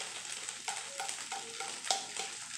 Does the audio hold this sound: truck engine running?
no